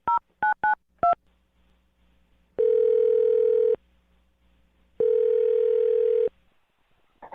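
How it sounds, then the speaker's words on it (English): Four quick touch-tone beeps of a phone number being keyed in, then two long, steady ringback tones separated by a pause, clear and alone. "I'm going to dial his phone number right now"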